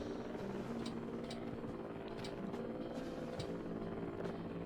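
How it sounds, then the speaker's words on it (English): A drone in the video game Voices of the Void hums and whirs loudly, a steady rotor-like drone with faint periodic ticks, alone without voices. "Who decided in the VOTV dev team that we should make the drone super loud?"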